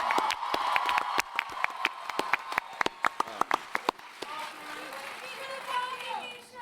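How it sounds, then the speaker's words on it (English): Audience applause at a Comic-Con 2014 panel for Supernatural, a dense wash of clapping with sharp individual claps standing out, thinning into crowd murmur and cheering after a few seconds. "We need to give you applause."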